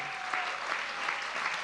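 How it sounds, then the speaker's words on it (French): A church congregation at a couples' gala claps steadily, a dense, even patter of many hands filling the short moment at moderate loudness. "je vous demande d'applaudir le Seigneur Jésus-Christ"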